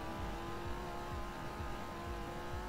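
Revving motor from a small motorcycle in BeamNG.drive, a steady loud buzzing drone with a constant pitched whine that holds without a break through a jump attempt over the Grand Canyon.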